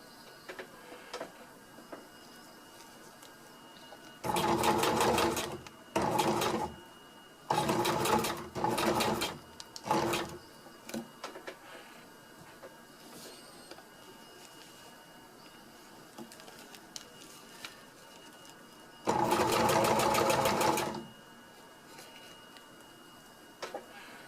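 Sewing machine running a lock stitch on a pack cover in several short whirring bursts of one to two seconds separated by quiet pauses, with faint clicks and handling noises between runs.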